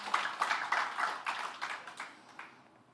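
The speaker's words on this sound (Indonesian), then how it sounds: "Berikan tepuk tangan." Church congregation applauding during a Sunday sermon, a faint, scattered round of clapping with uneven bursts that gradually thins out and fades.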